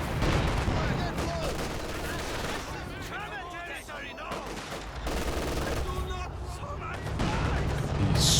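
An aircraft strafing run in Company of Heroes 2 fires dense bursts of rapid gunfire with explosive booms in a loud, chaotic battle mix, while a voice talks over the action throughout.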